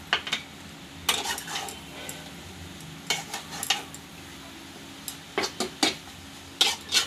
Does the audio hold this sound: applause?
no